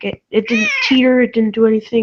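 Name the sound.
pet cat meowing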